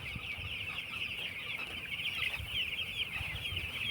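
Hens cluck steadily in the background, a busy farmyard murmur with a constant high hum, no voices.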